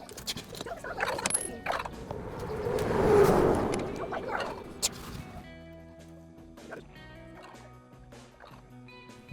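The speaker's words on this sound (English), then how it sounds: "We've got some pretty vicious turkeys, as you can hear them gobbling in the background." Vicious wild turkeys gobble in the background outdoors, the loudest burst coming mid-clip, followed by quieter mechanical clicks and light handling noises.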